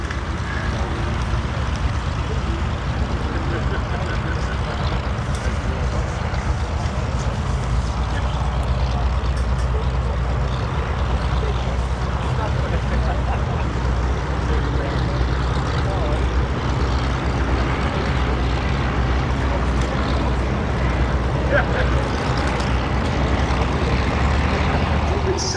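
Spitfire and Hurricane fighters pass overhead in Vic formation at the Duxford Battle of Britain airshow, a continuous loud droning engine roar that stays steady throughout, with a commentator's voice running over it.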